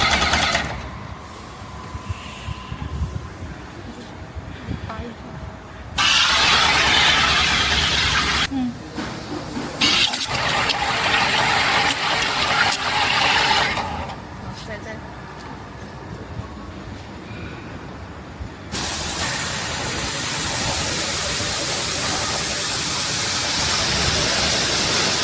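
An EA595S machine runs during water testing, giving a loud, steady hissing, rushing roar that swells and drops in sections, with bursts of louder broadband noise and no talking.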